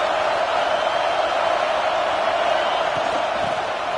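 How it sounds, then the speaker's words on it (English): Stadium crowd at an American football game roaring during a third-down red zone play, a dense, steady wall of loud cheering and noise with no letup throughout. "Third down play in the red zone, and this crowd is at fever pitch."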